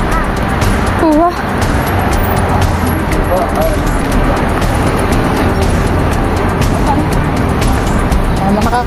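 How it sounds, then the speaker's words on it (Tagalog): Cars stream past nonstop on a busy road in Israel, a loud, dense traffic roar that never lets up, with people's voices mixed in close by. "Nakakatakot naman tumawid dyan. Walang tigil ang sasakyan."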